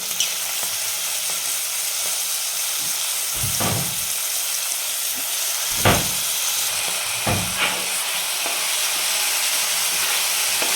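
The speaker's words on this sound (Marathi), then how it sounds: "छान तेलावर परतून घ्यायचं आहे टोमॅटो" Tomatoes sizzling in hot oil with a pinch of salt in a pan, a steady close hiss with a few louder spatters and stirring scrapes throughout.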